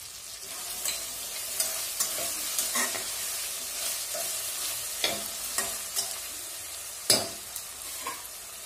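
Vegetables frying in oil in a pan for veg pulao, a steady close sizzle broken by repeated scraping stirs of a spoon, with no voices.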